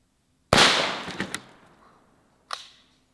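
MEGALODON 50cal pump action air gun shot hitting a ballistic dummy head, a sharp loud crack with decaying tail and a few quick clicks after, then a single fainter snap two seconds later.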